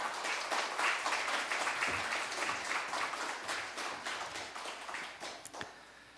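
At a church New Year revival service, the congregation applauds to welcome the preacher with a sustained wash of many hands clapping across six seconds, even and moderately loud, gradually thinning at the end.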